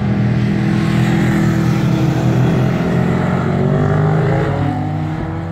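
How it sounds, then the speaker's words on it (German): A Ducati motorcycle rides past on a small kart circuit, its engine note loud and close, rising and falling as it sweeps by with a steady roar. "Jetzt hier schöne Ducati."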